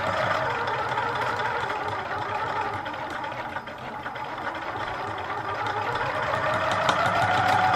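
A home sewing machine, owned for five years, stitches fabric straps for a face mask with a steady, fairly loud motor whir that runs unbroken from start to finish.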